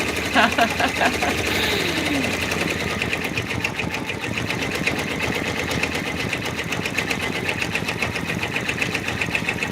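An in-the-hoop embroidery machine stitches a raccoon stuffed toy with a fast, steady mechanical chatter that runs loud and unbroken from start to end.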